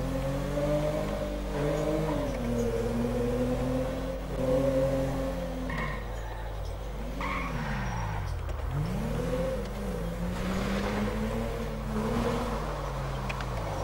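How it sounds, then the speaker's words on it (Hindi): A Toyota Corolla in the video game GTA5 climbing off-road, its engine revving up and down in repeated swells, rising in pitch, dipping, then surging again, moderately loud with no talk. "अब इस गाड़ी को इधर देखते हैं कि ये चढ़ती है कि नहीं"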